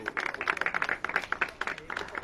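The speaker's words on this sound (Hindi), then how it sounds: "ताली बजाओ, ताली बजाओ डैनियल भाई" Rhythmic hand clapping from a church congregation at a Hindi-language worship service, a quick, uneven run of claps lasting a couple of seconds with voices mixed in.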